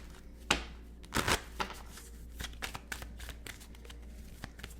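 Tarot cards riffle and slap together in a quiet room, with a few brisk shuffling bursts followed by lighter scattered card flicks, close but soft.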